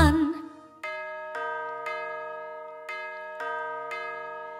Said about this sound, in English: School bell ringing, school bell ringing, Brother John, time to go.